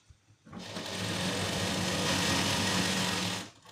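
A sewing machine stitches a blouse lining in one continuous, even whirring run, starting after a brief pause and stopping abruptly near the end, heard up close with no talking.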